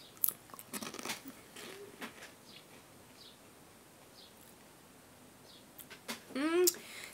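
Crunchy, savory noodle-shaped Japanese snack bitten and chewed close up, with a burst of crisp crunches at the start, quieter chewing in between, and a voice sound near the end.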